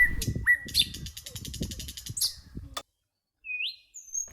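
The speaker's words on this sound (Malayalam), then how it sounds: "കുറേ പക്ഷികളുണ്ട് കേട്ടോ" Forest birds sing close by in rapid, bright chirping phrases and trills, then a short silence before a couple of clear whistled notes.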